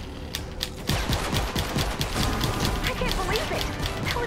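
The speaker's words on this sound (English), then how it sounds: "Gatling gun" A Gatling gun in the Fortnite Save the World game fires rapid bursts, loud and close. The rattling shots sit over a busy game background, and the gunfire picks up sharply after a short lull at the start.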